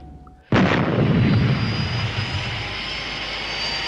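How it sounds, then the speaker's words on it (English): London Flight 122, a radio drama airliner sound effect, takes off with a sudden loud roar of aircraft engines. The roar bursts in after a quiet lead-in and holds as a sustained, heavy engine rumble. "London Flight 122 cleared for takeoff"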